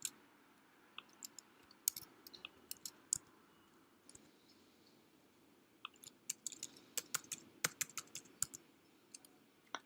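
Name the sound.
typing a registration code on a computer keyboard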